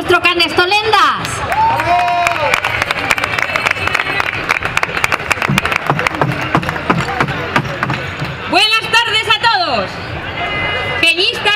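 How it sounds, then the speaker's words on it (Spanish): Crowd at the Zaragoza carnival opening applauds and cheers steadily, a loud continuous wash of clapping and babble with a voice over a public address system breaking through at moments. "aplauso para nuestro Canestolendas."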